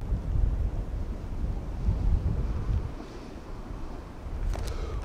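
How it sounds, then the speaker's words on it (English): Cold wind gusts across the Lake Erie shore, a steady rumbling buffet on the microphone that rises and falls, with no voices. "The wind's really getting to me, really, really good."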